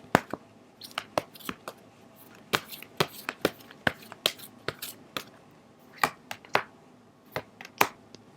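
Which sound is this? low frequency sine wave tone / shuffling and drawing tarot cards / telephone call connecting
shuffling and drawing tarot cards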